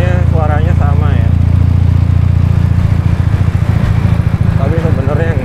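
A Ural Patrol 2017 motorcycle's boxer engine idles with a deep, steady low rumble while someone talks over it, his voice fairly prominent above the engine.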